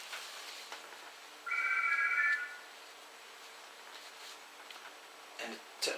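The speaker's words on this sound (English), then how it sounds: "And the telephone is ringing and ringing and ringing." A salon telephone rings once, a short electronic trill standing out over quiet room tone, with small handling sounds around it.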